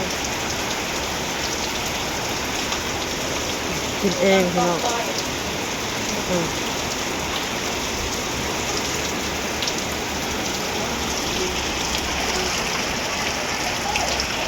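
Steady rain falls outdoors in a loud, continuous patter covering everything, with someone speaking briefly partway through.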